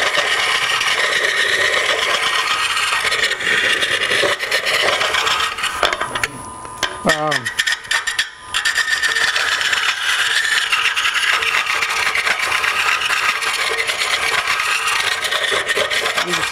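A wood lathe turning a cremation urn, the tool cutting wood with a steady, loud, continuous rasping and scraping that runs the whole time, briefly easing and shifting in tone midway before the cutting resumes.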